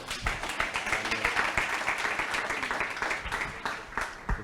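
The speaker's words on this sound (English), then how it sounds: "Round of applause." Audience applause at a recorded chat with Dr Thebe Ikalafeng in Mabopane, a steady, moderately loud clatter of many hands lasting several seconds, with faint voices mixed in.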